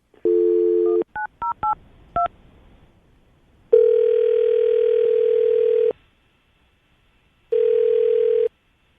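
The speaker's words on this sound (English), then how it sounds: "We're going to call her right now, get her on the phone" A telephone call being placed: a short tone, then a quick series of touch-tone dialing beeps, followed by two long ringback tones separated by silence, loud and clear with no talk.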